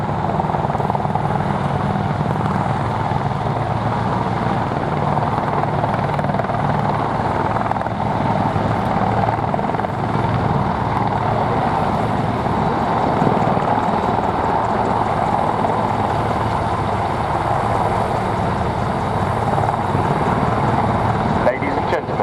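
Apache helicopter gunships at the Duxford airshow, a steady loud rotor and turbine drone that holds throughout under an announcer's voice.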